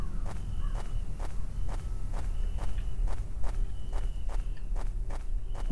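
Footsteps in the horror game Survivors Viy, a steady even walking rhythm of about ten soft thuds over a low ambient hum, moderately close with no voices.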